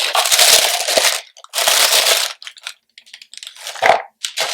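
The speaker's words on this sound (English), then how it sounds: "I can never open this without ripping a tissue paper." Tissue paper inside a beauty subscription box rips and crinkles as the box is opened, coming in loud, close bursts of crackly tearing separated by short pauses and softer rustles.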